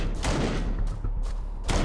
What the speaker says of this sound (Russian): Вот шквал даже вырубает этих жаробасов с одного выстрела.